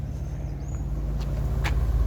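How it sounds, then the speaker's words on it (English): A Ford Focus MK1 car engine idles with a steady, low, even rumble, close by and with no talk over it. "I'm just going to leave that to idle because it does need to be run."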